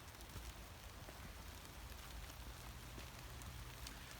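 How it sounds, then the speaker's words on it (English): Rain begins falling again outdoors, a faint, steady hiss of drops pattering on surfaces with no clear gaps and no voices. "it's starting to rain again"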